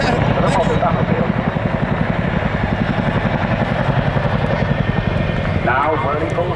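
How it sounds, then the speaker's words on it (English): An RAF Chinook twin-rotor helicopter flying a display at Cosford Airshow, its loud, continuous rotor thump and turbine roar pulsing rapidly and steadily throughout, with crowd or commentary noise faintly beneath. "used to show off the awesome power of the Chinook to crews of other helicopter types"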